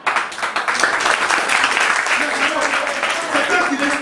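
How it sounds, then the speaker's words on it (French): An audience at a school awareness campaign claps, a crowd's scattered applause rising quickly and holding steady, mixed with voices speaking over it. "On applaudit ici."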